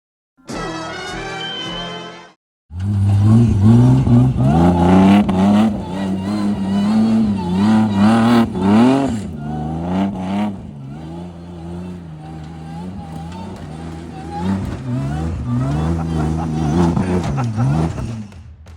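A V8-engined Toyota Hilux revs loudly and close by, with repeated rising and falling bursts after a brief opening segment. Several sharp throttle blips rise and fall in pitch, and the engine roar stays in the foreground throughout.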